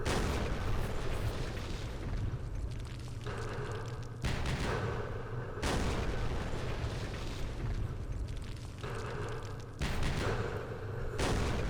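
4.2-inch mortars firing in a Vietnam war strategy game: a continuous, heavy, rumbling barrage of booms and blasts that stays loud throughout, swelling in repeated waves, with no voices over it.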